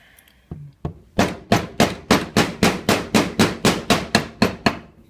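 About fifteen sharp metallic hammer taps on a Suzuki RMX/SMX motorcycle engine part ring out in a steady, even rhythm, close and clear, after a couple of softer knocks.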